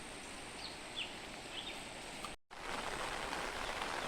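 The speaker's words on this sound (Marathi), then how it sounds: "पाऊस तर भयानक पडतोय" Heavy rain falls steadily in hilly country near the Panval railway bridge, the tallest railway bridge in India, a dense even hiss throughout with a brief dropout midway and a few faint bird chirps early on.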